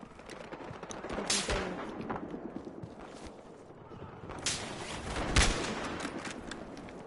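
Gunfire in the Hardline video game crackles in repeated bursts, some sharp and loud, others quicker and softer, under steady game noise with no clear talking.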